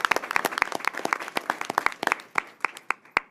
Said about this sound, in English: Give one more round of applause, please, for this school district and its outcome